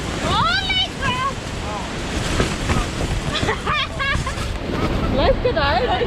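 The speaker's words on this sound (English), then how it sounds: "Oh my god, it's so windy." Strong wind roars and buffets the microphone during a hailstorm at Patagonia Lake, a constant loud gusting roar beneath excited, shouting voices.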